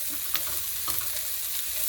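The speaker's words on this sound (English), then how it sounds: "So I've been frying the broccoli" Broccoli sizzles steadily in a hot pan over an open flame, a bright continuous hiss with a few soft clinks and scrapes of stirring.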